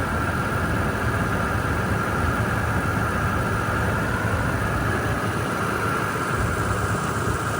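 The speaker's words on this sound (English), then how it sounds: "let's listen to the engine." A Lexus 2UZ-FE V8 idles at a steady, even pace, its constant hum joined by a thin high whine and little variation from start to end.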